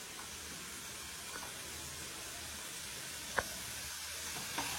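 Tomatoes cooking in a pan over a fairly high gas flame give off a steady, soft sizzle and hiss, faint and even throughout, with a couple of small clicks.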